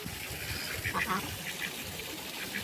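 Ducks quack faintly in short clusters while swimming in a fish pond, against a steady wash of water and outdoor background noise.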